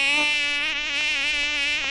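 A mosquito's whining buzz plays in an educational children's video game, a loud, close, steady drone with slight wavering pitch and no talk.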